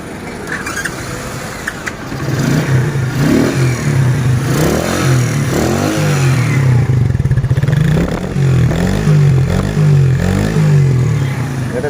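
A modified Zongshen 100cc cafe racer motorcycle engine idles loudly, then revs up and down in repeated bursts at close range.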